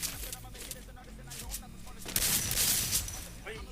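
G36 rifle gunfire in a competitive mobile shooter match, heard as bursts of game shots and impacts that swell louder in the second half, with scattered sharp cracks amid busy game noise.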